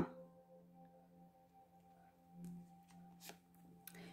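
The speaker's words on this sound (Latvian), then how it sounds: "šīs te kārtas ievietošu, lai jūs tā vairāk koncentrētos" Tarot cards shuffled and set down, soft papery flicks and a few brief riffles against a quiet indoor hum, close and faint with no talking.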